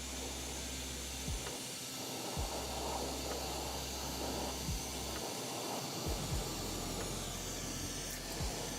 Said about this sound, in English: Little ASMR sizzle there.